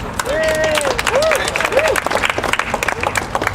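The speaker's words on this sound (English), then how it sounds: "We got to give him a round of applause." Applause from a crowd at an outdoor residents' protest over post-Sandy campaign contributions, steady clapping across the clip with babble and a talking voice over it.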